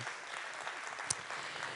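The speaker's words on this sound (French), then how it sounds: "Bravo, félicitations, on vous applaudit une nouvelle fois." Faint, distant audience applause for an award winner: a soft, continuous patter of many hands with one brief louder clap, no voices.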